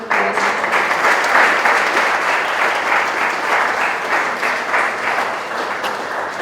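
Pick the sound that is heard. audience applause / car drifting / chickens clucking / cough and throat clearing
audience applause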